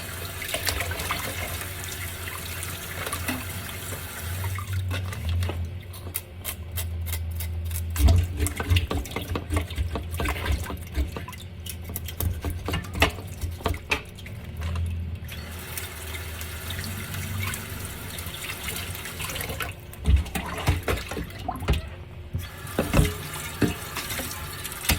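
Tap water runs into a sink while a fish is rinsed and rubbed clean, a steady close splashing stream broken by wet handling, rubbing and occasional knocks against the basin.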